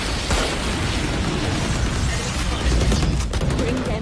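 Dense, continuous gunfire bursts and impacts in a Valorant ranked match, loud and layered over steady game noise with voice chat mixed in.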